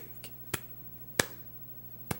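Hand claps during a Sunday church sermon, three or four sharp isolated claps spaced irregularly, close and fairly quiet with no talking.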